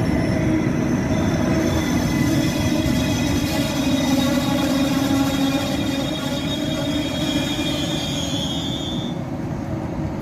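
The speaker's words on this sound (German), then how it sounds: "Auf Gleis 7 fährt ein der ICE 788 von München nach Hamburg-Altona über Fulda." A heavy ICE 1 Class 401 high-speed train rumbles in steadily and close by on a station platform, its wheels letting out long, high-pitched squeals over the constant roar.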